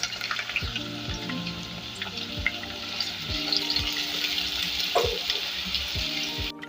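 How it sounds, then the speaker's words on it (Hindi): Roughly chopped small onion frying lightly in a pan, a steady soft sizzle with occasional stirring scrapes and clinks, close and continuous, with no voices. "छोटी साइज की मैंने प्याज को रफली काट लिया है, वो इसमें शामिल कर दीजिए और इसको हम लाइट सा फ्राई करेंगे"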